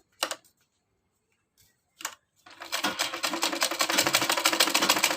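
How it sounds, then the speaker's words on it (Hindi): A sewing machine stitches the neck of a kurti: a few isolated taps and clicks, then a fast, steady mechanical chatter of stitching that runs continuously and grows slightly louder, close by, with no voices. "इधर से सिलाई चला लेंगे इसको इस साइड करते हुए।"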